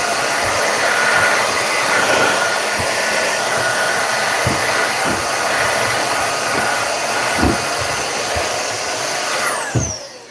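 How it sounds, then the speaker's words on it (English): A vacuum cleaner whirs steadily close by as it cleans an RC car build area ahead of fitting a carbon fiber chassis for a 120+ mph basher, with a few soft knocks underneath, then winds down near the end. "I just want to vacuum"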